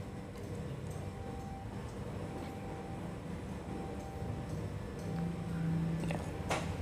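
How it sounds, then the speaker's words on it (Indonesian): A KRL commuter train rolls through a level crossing at Cisauk, a continuous rumbling rush with faint ticks and clanks and a brief tonal hum, heard from roadside at moderate distance. "KRL yang lagi melintas"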